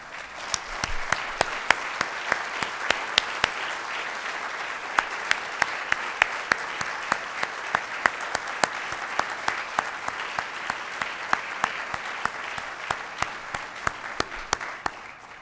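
Sustained applause from an audience at a city's State of the City event, many hands clapping steadily with sharp individual claps standing out, lasting throughout without speech.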